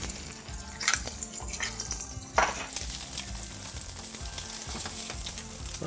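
An egg frying in Andalusian olive oil crackles with a loud, close, continuous sizzle, with a few sharper spits and pops near the start.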